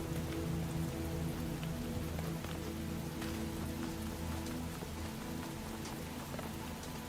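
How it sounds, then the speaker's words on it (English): Rain in the video game The Talos Principle: Reawakened, a dense, even patter of drops on surfaces that keeps up steadily throughout with no voices. "Apparently rain is fine for this robot, but wading through water is not"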